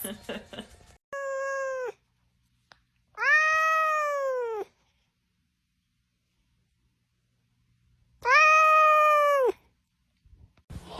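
Black cats meow several times up close, with separated drawn-out cries of rising and falling pitch, the longest two loud and clear, between stretches of near silence.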